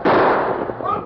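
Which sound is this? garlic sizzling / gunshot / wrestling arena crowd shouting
gunshot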